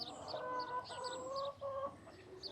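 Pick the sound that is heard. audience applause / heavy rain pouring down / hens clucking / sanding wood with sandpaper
hens clucking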